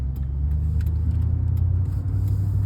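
Pickup truck on a short drive, its engine a steady low rumble throughout with faint road noise, no talking.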